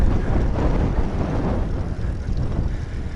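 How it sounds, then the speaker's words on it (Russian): Hot, strong wind gusting straight into the face and buffeting the microphone, a loud continuous low roar with no voices, on an open road. "что-то ветер поднялся, естественно, в лицо дует"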